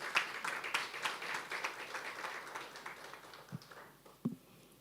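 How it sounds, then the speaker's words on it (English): A scattered round of audience applause at a Ghanaian social workers' gathering, fairly faint and thinning out, with a few separate claps and taps near the end. "Let's give a round of applause to her."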